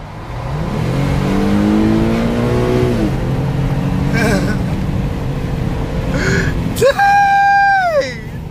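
A 2013 Infiniti G37xs sport sedan accelerates hard, its engine note climbing through revs then dropping at a gear change, loud and close from inside the cabin, with a voice speaking over it.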